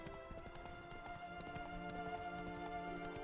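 Roach, the horse in Witcher 3: Blood and Wine, trots along with quick, evenly spaced hoof clip-clops, fairly soft and steady over a sustained tonal game soundtrack.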